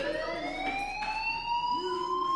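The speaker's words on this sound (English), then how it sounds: "do you hear that fire alarm?" A fire alarm wails in the video game Life is Strange, a steady rising electronic siren tone with bright harmonics, continuous and fairly loud throughout with no talking.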